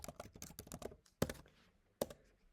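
A computer keyboard being typed on up close, a quick run of sharp key taps followed by a pause and two isolated heavier key strikes.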